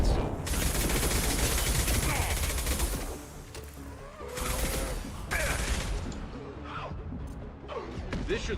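Allied gunfire in Mass Effect 2, loud overlapping bursts of rapid shots that pause briefly and then resume, with impacts and clatter mixed in and a continuous battle din underneath.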